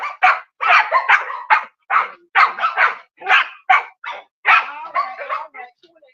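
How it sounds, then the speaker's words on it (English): Farm guard dogs kept to protect pigs and livestock bark in short, repeated bursts, loud and near, with yips mixed in and brief gaps between the barks. "So those are the dogs that she has there to protect the pigs, and the livestock inside."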